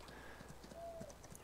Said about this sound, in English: Had to stop bailing to exercise my horse